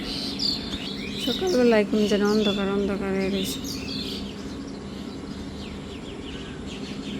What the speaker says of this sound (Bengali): এইদিকে বেশি গাছ গোছালি এর জন্য পাখির ডাকটাও বেশি শোনা যায়